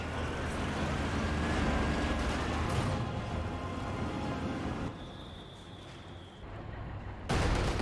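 Mortar barrage in the real-time strategy game Company of Heroes 2: a steady, dense clatter of distant shell impacts and gunfire keeps rumbling throughout, with a brief dip near the end before another loud burst.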